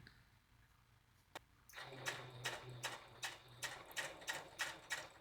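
A sewing machine stitching fabric for a Star Trek skant cosplay, quiet and close, starting after a single sharp click with a run of rhythmic mechanical bursts and a low motor hum between stitches.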